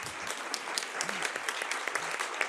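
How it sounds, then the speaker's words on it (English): An audience at a data science seminar claps, a steady patter of many hands at moderate distance with a faint voice briefly underneath. "maybe we can have the hand clapping now"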